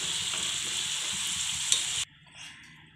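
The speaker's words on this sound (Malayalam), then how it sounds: "നോക്കിയേ നമ്മുടെ ചക്ക ഇവിടെ നല്ല നല്ല വറുത്ത് നല്ല പരുവത്തിൽ നല്ല ക്രിസ്പി ആയിട്ടുണ്ട്" Jackfruit pieces fry in hot oil with a steady, dense sizzle for about two seconds, then the sound drops away abruptly to a much quieter background with a faint scrape.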